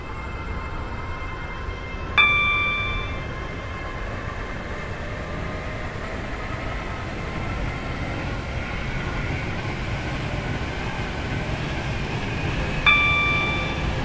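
A Stepford County Railway train rolls along in Roblox with a steady mechanical rumble, and a bright chime sounds once early and again near the end.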